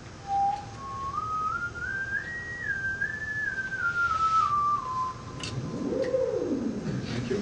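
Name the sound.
ondes Martenot notes being played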